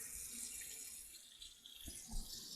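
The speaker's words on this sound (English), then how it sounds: "until the water runs free or clear out of it, like right there" A tap runs steadily while a polishing pad is rinsed under it, a soft continuous hiss of water with a couple of low thumps as the pad is handled.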